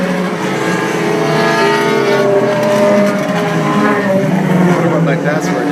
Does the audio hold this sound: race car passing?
yes